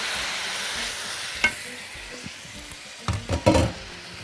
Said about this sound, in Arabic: وهقلب